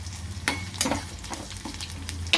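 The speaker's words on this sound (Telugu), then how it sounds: "ఒక రెండు నిమిషాలు అలాగే ఉంచేస్తే అల్లం కొంచెం మంచిగా వేగుతుంది" Ginger fries in a pan for curd rice, a steady close sizzle with occasional stirring scrapes and clinks of the spatula, and no speech.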